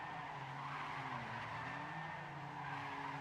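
Car sliding sideways through a tight corner in an ESL racing game match, steady loud tire squeal and skid over a droning engine, continuous throughout.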